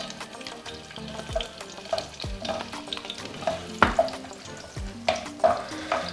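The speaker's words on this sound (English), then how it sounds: "And I fry them until they're translucent." Onions frying in hot oil in a pan for gizdodo, a steady sizzle with stirring clatters and a few sharp utensil knocks, close and moderately loud with no talking.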